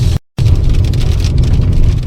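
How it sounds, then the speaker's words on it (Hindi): Steady rain falls on the ground outside during a road trip through the mountains, a dense, loud hiss with a low rumble that is broken by a brief moment of silence near the start. "वेदर अपडेट ये है कि यहाँ आज हो रही है बारिश"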